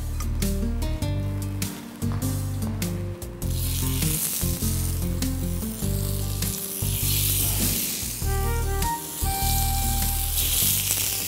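Food fries lightly in a hot pan with a small amount of Rupchanda soybean oil. A continuous sizzle sits under loud, steady background music for the whole stretch.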